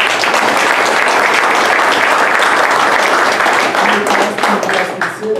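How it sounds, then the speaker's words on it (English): A crowd applauds loudly at a wrestling banquet, dense continuous clapping that holds for several seconds and then tapers off near the end. "So another round of applause."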